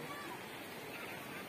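Clear natural water flows at a Maldevta stream spot, a steady broadband rush of moving water filling the short stretch, with faint voices mixed in.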